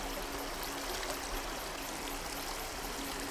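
A fresh, clear mountain stream flows steadily over stones, its continuous broadband rush and gurgle close and even throughout with no voices.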